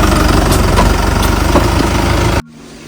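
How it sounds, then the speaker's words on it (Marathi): A loud tractor engine rumbles steadily at close range while puddling a rice field, a heavy continuous drone that stops abruptly near the end. "आपण ट्रॅक्टर काढून घेऊया बघा ट्रॅक्टर कुठून कुठून चढवतो"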